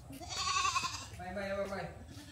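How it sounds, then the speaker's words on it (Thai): Goats bleating at a village house in rural Bangladesh, a couple of wavering cries standing out over steady outdoor background noise, with no talk. "ดูบ้านเขาเลี้ยงแพะด้วย"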